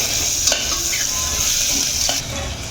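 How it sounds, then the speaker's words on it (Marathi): A ground paste of garlic, ginger, green chili and coriander is stirred into onions in a hot pan. A steady close sizzle runs throughout, broken by a few scraping strokes of a spoon, with no talking. "हे वाटण आपण यामध्ये घालून एक ते दोन मिनटं छान असं याला परतून घ्यायचं आहे या कांद्यामध्ये"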